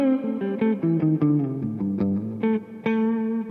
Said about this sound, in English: This is what it sounds like not coil tapped.